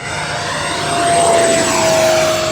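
Aircraft engine drone of an airplane on landing approach with gear down, a steady, loud roar with a sustained tone that slowly swells, heard alone with no talking.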